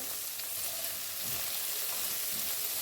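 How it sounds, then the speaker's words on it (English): Carrots fry and are stirred in a pan for a plantain and egg frittata, producing a loud, dense, constant sizzle close up with faint stirring scrapes beneath. "I add in the carrots. I stir in also."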